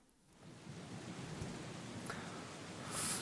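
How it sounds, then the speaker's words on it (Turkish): Steady rain hisses through gloomy, overcast weather in the video game Beyond Two Souls, a dense continuous wash with no voices. "Günlük güneşlikten yağmurlu kasvetli havaya."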